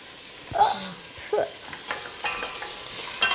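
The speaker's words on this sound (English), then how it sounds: "So now you've added the Omani limes, the meat, the onions, the piece of bone." Persian stew of Omani limes, meat, onions and a piece of bone cooking in a pot, with a soft sizzle under a few distinct scraping and knocking stirs of a utensil.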